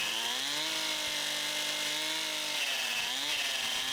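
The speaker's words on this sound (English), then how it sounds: "went with the chainsaw plan" A chainsaw runs steadily at high revs, its engine whine rising and dipping slightly as it hollows out walnut firewood, loud and close throughout.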